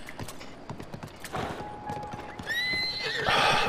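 Horse neighing and whinnying in a video game, with clip-clop hooves underneath, the whinny rising loud toward the end over a steady background.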